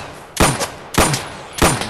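Three loud, evenly spaced gunshots from a video game gun crack out one by one, each with a short ringing tail.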